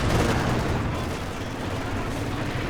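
Machine-gun fire crackles in a video game match, dense rapid bursts of gunfire filling a short stretch at a steady loud level.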